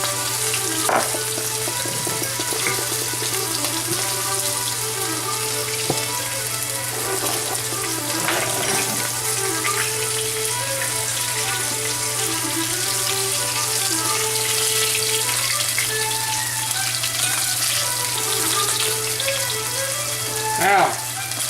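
Squirrel pieces frying in lard in a pan, a steady dense sizzle and crackle running unbroken throughout, close and fairly loud, with a low constant hum beneath.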